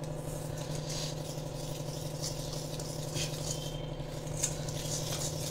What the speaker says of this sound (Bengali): কুসুম কুসুম গরম জল দিয়ে মেশাবো, দিয়ে একটা ব্যাটার তৈরি করব।